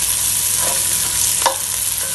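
Spinach soup ingredients go into a pan with frying onions, giving a continuous loud close sizzle with a brief stir or clatter partway through, no talk.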